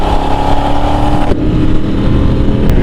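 An old Ducati motorcycle engine drones steadily while being ridden, with loud wind and road noise over a constant mid-pitched hum.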